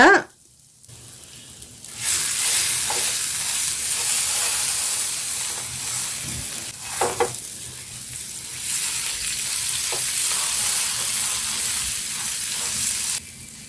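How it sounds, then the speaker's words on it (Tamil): Masala pav frying in butter on a griddle at a Mumbai-style street food stall: a loud, steady sizzle and hiss close by, with a few scraping sounds and brief quiet moments. "இப்போ நம்ம திருப்ப செய்யும் போது கொஞ்சம் வெண்ணெய் சேர்த்திக்கலாங்க."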